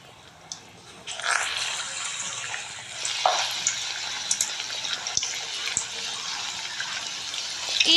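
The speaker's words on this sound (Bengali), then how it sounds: "এরকম করেই আমি সব মাছগুলোকে ব্যাটারির সাথে মাখিয়ে ছাকা তেলে ছেড়ে দেব।" Battered fish pakora drops into hot oil and starts frying, with a soft, steady sizzle and bursts of crackle that swell and stay under a low, quiet background.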